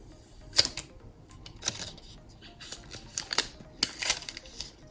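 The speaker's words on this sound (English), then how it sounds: "I'm going to rip off the plastic." Plastic wrap being torn off an 18-watt power brick bundled with an iPhone 11 Pro Max, heard as several sharp crinkling, crackling bursts at close range with short quiet gaps between them.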